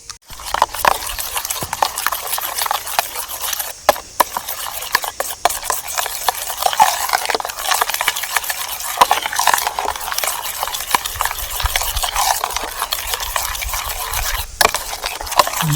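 Egg mixture for a rural South Indian style omelette being stirred briskly in a bowl, a steady run of close clicking and tapping strokes with no talk.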